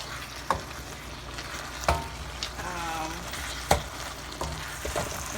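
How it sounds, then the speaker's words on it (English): Shrimp and zoodles sizzle and fry in a pan with a steady close crackle, broken by a few sharp knocks and scrapes of a utensil stirring them; no one speaks. "The Zoodles are getting cooked."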